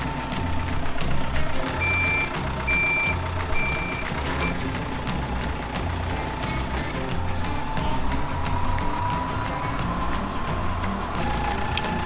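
A vehicle backing up gives a short run of evenly spaced reversing beeps over a steady engine rumble and shop noise; the beeps stop partway and the engine keeps running.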